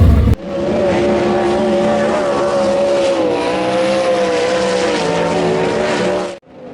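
Speedcars race during time trials at the John Day Speedcar Classic. Loud, continuous engine roar rises and falls slightly as the cars run, sustained for several seconds before cutting off abruptly.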